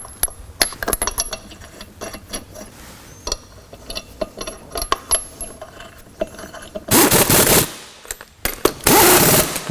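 Metal lug nuts clink and rattle as they are started by hand onto the wheel studs of a Toyota Camry during a brake pad job, with irregular close clicks and a couple of louder rattling bursts near the end.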